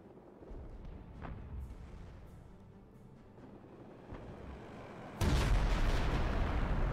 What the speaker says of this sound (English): We've got rocket artillery.